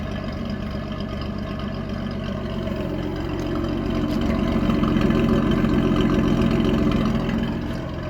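A 1966 Ford Mustang engine idles and runs steadily through a newly fitted muffler, exhaust manifold gasket and donut, a low, even rumble with a slight bark that swells a little midway, heard up close and alone.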